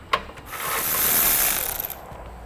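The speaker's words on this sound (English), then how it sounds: "I'm going to remove this bolt with a 10mm socket." A 10mm socket ratchet loosening a bolt on the base plate mount of a 2010 Honda CR-V, giving a sharp click and then a steady run of close metallic ratcheting clicks that swell and fade.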